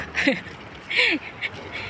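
Birds calling outdoors along a hot roadside walk home, giving two or three short, sharp chirping calls that stand out clearly, with faint background noise between them.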